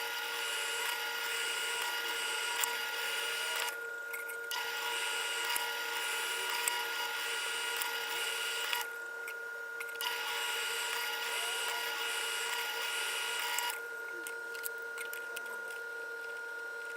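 Power drill boring a line of holes along the front edge of a flush bolt security strike plate, a steady high whine running in long stretches broken by brief pauses.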